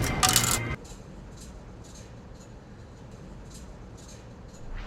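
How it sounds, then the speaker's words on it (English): A couple of coins drop down a tube, a bright metallic jangling burst up front that quickly settles into a faint rolling rattle and soft distant noises as they reach the bottom. "sticking a couple of coins into a tube and listening them fall to the bottom"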